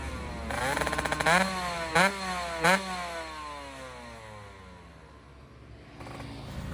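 A Kawasaki Ninja SS two-stroke motorcycle fitted with a Sudco PWK 33 carburetor revs hard in a few sharp, rising bursts close by, then its engine note winds down in a long falling sweep and settles to a steady drone.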